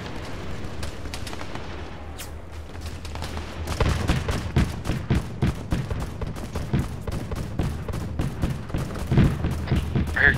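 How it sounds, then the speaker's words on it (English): Cannon fire from a Mammoth tank in the video game Arma 3, heard as quiet crackle at first and then many rapid sharp booms and shots in dense succession, distant and layered. "I hear cannon fire. Is that from a mammoth?"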